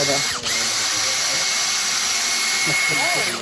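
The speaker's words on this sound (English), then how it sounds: "used this little drill winch to haul up" A small drill-powered winch hauling rafters up the side of a building whines steadily and loudly at a constant pitch, running without a break and close by.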